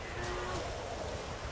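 A cow in the video game The Witcher 3 gives a low, drawn-out moo, faint under steady ambient game background noise.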